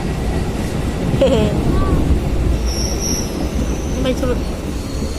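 A moving train rolling along its rails after months out of service, with a steady loud rumble and brief high wheel squeals over the rails. Passengers can be heard faintly in the carriage.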